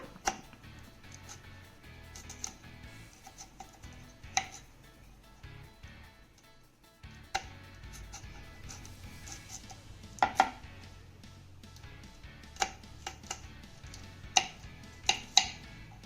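Bitter gourd (karela) being sliced with a knife on a cutting board, crisp scattered chops close to the mic, some single and some in quick pairs, over a quiet room.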